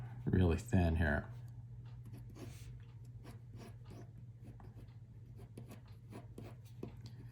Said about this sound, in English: I'll kind of draw the same thing here